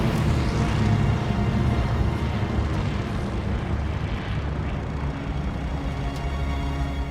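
Airplane engine roar from Call of Duty Vanguard, a steady, loud, dense drone with heavy low rumble that holds throughout without pause.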